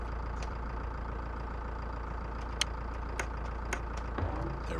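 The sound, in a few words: tractor engine idling in video game Pure Farming 2018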